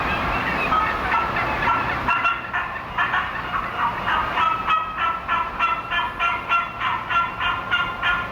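Many wild turkeys gobble in rapid, overlapping bursts outdoors, the rattling calls coming thick and rhythmic, some close and loud, others farther off.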